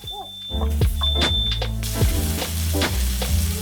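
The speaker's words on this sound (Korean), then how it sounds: "정말 진하게 놀짝놀짝하게 저렇게 구워주셔야 돼요. 연기가 막 나면서" A beef tenderloin sears hard in a hot, smoking pan, a loud crackling sizzle with sharp spits and stirring clatter, while a high electronic beep sounds briefly at the start.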